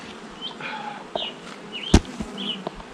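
Honey bees buzzing around a hive entrance during a Snelgrove board setup, a steady near drone with individual bees whining past the microphone and a sharp knock partway through.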